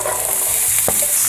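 Vegetables sizzle loudly and steadily in clarified butter in a pot on the stove, with a brief stir partway through and no voices.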